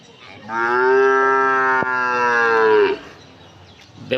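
Cattle at a village cow market give one long, loud, sustained moo lasting a couple of seconds, rich and harmonic, with a sharp knock in the middle and quieter market noise after.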